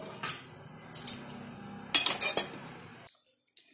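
Puffed sorghum and puffed rice chevdo tossed with a spoonful of spice mix, heard as a few scattered spoon-on-bowl clinks and light scraping bursts, close and fairly quiet, with no talking.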